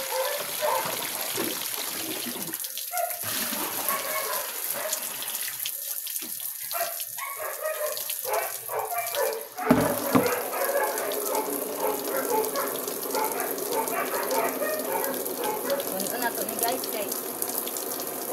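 Steady water pouring into a plastic basin while cleaning a mattress outdoors, a continuous bright splashing and trickling that runs throughout, with brief background voices and a dog faintly audible.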